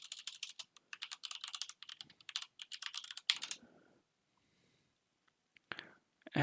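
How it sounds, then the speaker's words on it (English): Computer keyboard typing in quick bursts of close clicks, stopping briefly before a few more keystrokes near the end, while working in the Metasploit framework. "maybe you just type in the name"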